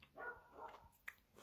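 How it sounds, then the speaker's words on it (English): A dog barks once or twice, faint and somewhat distant, against low background noise with a brief sharp sound partway through; no one speaks. "Fucking dog."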